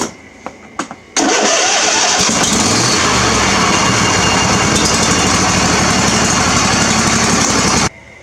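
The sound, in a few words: John Deere lawn tractor engine starting with new solenoid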